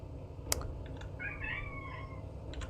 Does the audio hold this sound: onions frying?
no